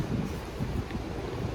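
Steady wind buffets the microphone outdoors on a cold, breezy day, a low rumbling roar that gusts and stays continuous with no voices.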